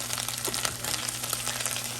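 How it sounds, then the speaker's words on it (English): Hot oil crackles and pops around frying garlic in a home kitchen pan, a steady dense sizzle with scattered sharp pops, close and fairly quiet, with no voices. "Oil is popping everywhere."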